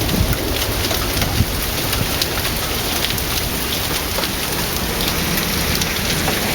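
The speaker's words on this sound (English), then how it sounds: "Fairly continuous rainfall now." Steady, heavy rain falls during a Waco thunderstorm, a dense, continuous hiss with scattered drops striking nearby surfaces and no voices.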